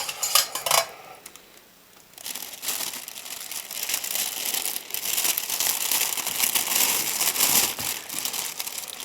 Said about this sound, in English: take 2 spoons, just normal soup spoon, put it into your sandwich bag, and then put your chain into it as well